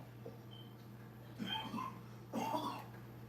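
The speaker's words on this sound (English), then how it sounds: "You been coughing all night" A person coughs a couple of times nearby in a quiet room. The coughs are short and rough over a steady low electrical hum.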